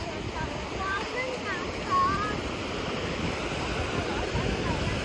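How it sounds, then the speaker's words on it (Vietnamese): Sea surf at Phuoc Hai beach in Vietnam washes in a steady broadband roar with wind, near and constant, with a few faint bird-like chirps and distant voices underneath. "Đây, biển Phước Hải nè bà con ơi."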